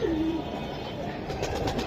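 Large-sized pigeons coo softly at close range, a low murmuring call in a steady bed of background noise.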